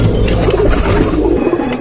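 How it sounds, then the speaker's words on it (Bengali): A jak pigeon coos close by in a soft, repeated low murmur, with a few faint higher chirps over it and no talk. "এটা হলো জাক কবুতর"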